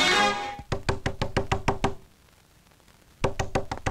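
Someone raps on a door in a Tamil film scene, a quick run of about ten sharp knocks, then a pause of about a second, and then another burst of loud, close knocks.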